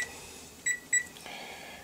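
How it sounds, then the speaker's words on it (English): A kitchen timer being set, giving two short, sharp electronic beeps close together, followed by a faint tone, all quiet against a still kitchen background with no talking. "Kitchen timer, 1 hour."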